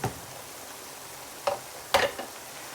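Beef mince with seasonings sautés in a pan, a quiet sizzle broken by a few scraping stirs, with short bursts near the start and middle.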